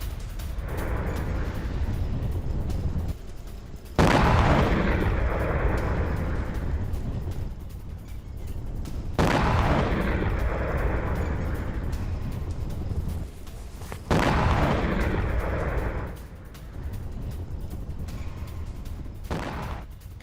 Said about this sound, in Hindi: कुवैत से ATACMS मिसाइल दागी गई और प्रिज्म मिसाइलें भी लॉन्च की गई।